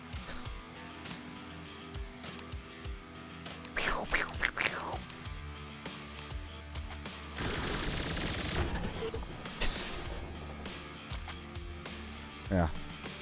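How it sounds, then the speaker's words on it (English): Video game gunfire from a Next Fest demo: bursts of shots and rapid fusillades crackle over a busy game soundscape, with a heavy sustained volley near the middle and a sharp burst near the end, voices mixed underneath. "Can I turn Johnny around and just shoot him?"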